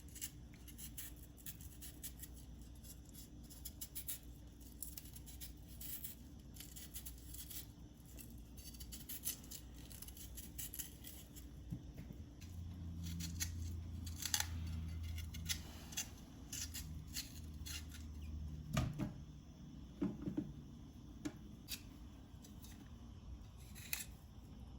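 A vegetable peeler scrapes the skin off a yam in a long run of quiet, close, repeated short strokes and scratchy rasps, with faint kitchen handling noise underneath.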